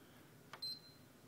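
A PS3 console sounds a single short, high electronic beep from its power button, faint and brief, preceded by a small click against quiet room noise.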